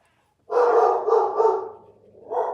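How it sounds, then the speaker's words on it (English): Dogs barking in a home during a live watercolor painting session: a close, loud run of quick barks, a short pause, then another bark starting at the end. "these dogs today. Some days they don't bark at all, and then turn on the camera, and there they are."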